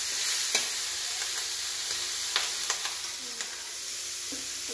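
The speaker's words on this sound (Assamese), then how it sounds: "চিকেনটো মই ভাজি দিছো সৰু সৰু পিস কৰি।" Small pieces of chicken frying in a pan for homemade momos make a steady close sizzle, broken by several light spatula scrapes and taps; no talking.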